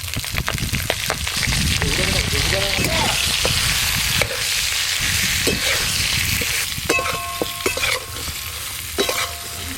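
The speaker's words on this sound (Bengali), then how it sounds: "তেল খুব ভালো করে গরম হয়ে গেছে। ধুয়ে রাখা ঝিঙে পটলগুলো দিয়ে দেব।" Washed ridge gourd and pointed gourd drop into very hot oil and fry, a loud close crackling sizzle with busy stirring and a few clinks of utensils against the pan.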